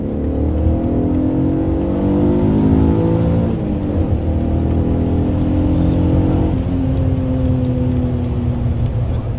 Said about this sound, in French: T'entends le moteur